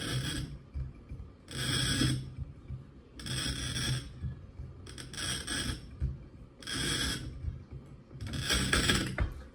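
A homemade bottle-cutting machine scores a glass bottle with about six repeated rasping, scratchy strokes, each a second or so long, separated by short pauses, fairly close.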